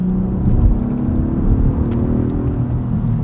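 A 2018 Acura TLX A-Spec SH-AWD engine hums and revs close by in Sport Plus mode with paddle shifting, its tone holding steady with slight rises throughout.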